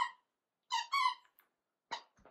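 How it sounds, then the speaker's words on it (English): A squeaky plush dog toy with a tube squeaker in its tail gives a few short, bright, close squeaks: one brief squeak, a quick double squeak, then another after a pause. "So she does have a little squeaky tail too."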